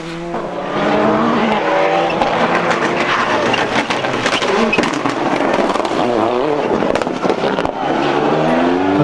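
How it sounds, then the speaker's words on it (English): A Toyota Corolla rally car slides on a wet road at a 2003 rally stage, its engine loud and close with tyre noise and spray under the roar, continuous throughout without any speech. "Liam has really woken up in the Corolla and the wet just as well to catch this slide at Fury Bridge"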